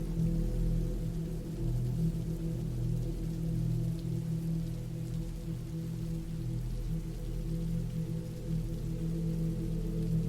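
Rain falls in a steady, unbroken wash at moderate level, with a constant low droning hum beneath it and no talking.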